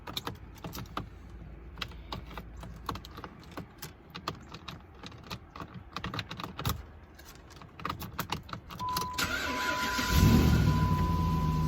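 A car at a salvage auction yard, showing 94,000 miles, is started with its keys. Keys jangle and rattle first, then the starter cranks and the engine catches and settles into a loud idle near the end.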